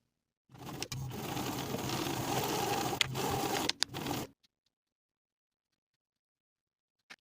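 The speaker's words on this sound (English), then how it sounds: "Sew the raw edges with a 1/4 inch seam allowance and then turn it right side out." A sewing machine runs a steady stitch along the raw edges of a folded fabric strip for an evening dress, a continuous mechanical whir of about four seconds broken by brief pauses, then silence.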